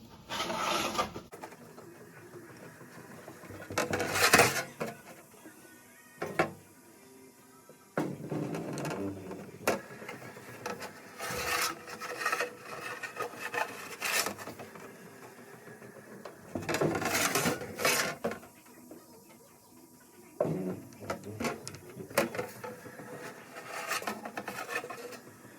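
Bead roller shaping sheet metal panels for a 1973-79 Ford truck, giving repeated bursts of rolling, rubbing metal noise separated by quieter pauses, moderately loud and close with no talking.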